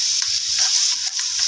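Garlic paste and onions frying in a pan for a chicken kaleji masala, a continuous close sizzle and hiss with faint stirring scrapes.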